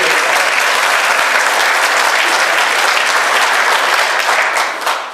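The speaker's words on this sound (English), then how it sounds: "all the ministers and stuff and all the people that help out with church deserve a round of applause real quick" A theatre audience at a stand-up comedy show applauds church ministers and helpers, a dense, loud, steady wash of clapping that holds for several seconds before starting to thin at the end.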